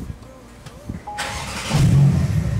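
A Porsche engine cranks and fires after the key is turned, rising into a loud, steady idle close by, with a voice briefly audible before it catches.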